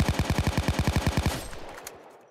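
Rapid burst of automatic gunfire in a first-person shooter game, about fifteen evenly spaced loud shots over a second and a half, then fading reverberation and scattered distant pops.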